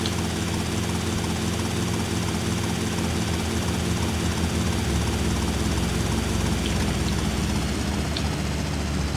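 Helicopter rotor in GTA Vice City Definitive Edition on PC, a loud, steady whirring drone with continuous engine hum throughout, no talking.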